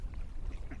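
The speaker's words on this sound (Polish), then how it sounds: "Kaczki mnie obkrążyły." Ducks quacking close by in a few short bursts over low, steady background rumble.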